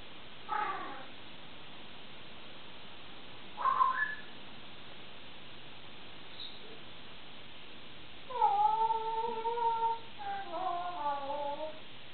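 An African grey parrot gives two short calls, then a run of clear whistled tones, rising and falling near the end, in a quiet room with no talking.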